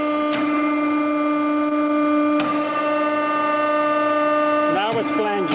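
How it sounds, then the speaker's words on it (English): A Model 3212 tube flaring machine runs with a steady tonal hum and two sharp clicks as the flare forms, ending in a brief rising mechanical whine. "The flare process is being made."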